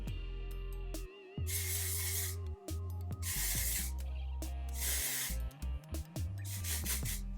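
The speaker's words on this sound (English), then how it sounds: "Starting off with the dry shampoo" Dry shampoo made with tapioca sprayed onto unwashed hair in several close, steady hissing bursts of a few seconds each, separated by short pauses and faint handling sounds.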